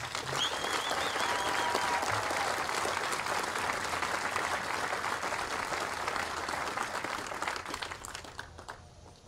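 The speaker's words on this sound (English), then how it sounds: "let's give our awardees a big round of applause" An audience at a cadet basic camp graduation applauds awardees, a broad, even roll of many hands clapping at moderate distance, easing off near the end.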